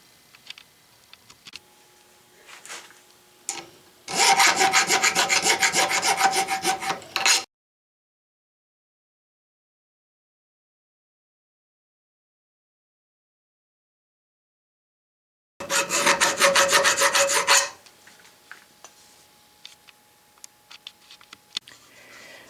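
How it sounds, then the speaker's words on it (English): A hand file rasps across a metal Stuart steam engine part clamped in a vise, two loud bursts of rapid back-and-forth strokes separated by a long silence, with faint workshop clicks around them. "Let me do just a little bit of filing on this."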